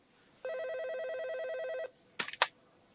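A telephone gives one electronic warbling ring lasting over a second, close and clear in a quiet room, followed by a couple of short clicks and knocks.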